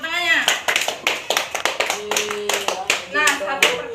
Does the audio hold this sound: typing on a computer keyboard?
no